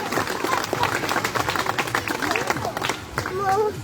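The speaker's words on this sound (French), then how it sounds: "On peut l'applaudir à Cléo parce qu'elle travaille quand même très très bien cet après-midi." Spectators applauding Cléo the sea lion at an animal safari park show, a busy spread of clapping mixed with crowd noise and a few voices, fairly close and steady.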